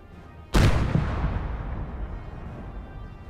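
One sharp, loud artillery blast in a tank video game, followed by a long rumbling decay that fades slowly over the next few seconds.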